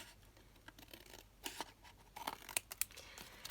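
Scissors snipping paper from a snippet roll for a collage scrapbook, a few quiet, separate cuts and rustles that grow more frequent toward the end.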